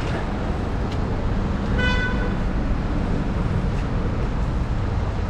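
A single loud car horn honk sounds over constant city traffic noise on Boulevard Saint-Denis in Paris, with a few fainter distant toots around it.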